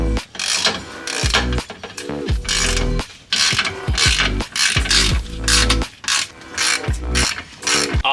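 Stock lower control arms coming off a car with a ratchet, repeated bursts of loud close clicking and cranking with short pauses between, no talk.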